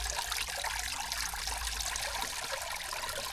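Water trickles steadily through a pump-fed backyard bird spa fountain, a continuous bright splashing and dribbling that stays even throughout with no voices.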